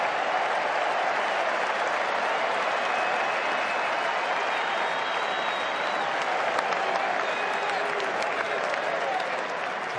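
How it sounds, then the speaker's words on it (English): Applause from a cricket crowd rolls on steadily at Melbourne Stars and Victoria cricket, a dense, continuous wash of clapping that holds at an even level throughout. "As the crowd applauds, it's been a brilliant knock"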